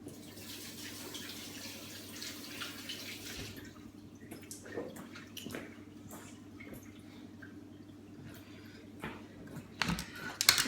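Tap water runs into a kitchen sink during handwashing, a soft steady splash with scattered drips and clinks under a low hum, louder at first, then fading into thinner trickles.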